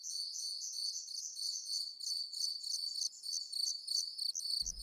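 Cricket-like insect chirping in rapid, regular high pulses, continuous and fairly clear against silence, ending with a short low thump.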